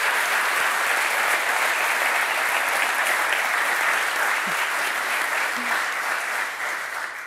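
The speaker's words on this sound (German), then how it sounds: "Einen großen Applaus bitte" A studio audience at a live German sports show applauds a guest, producing a continuous, full wash of clapping that stays loud and even and eases off slightly at the very end.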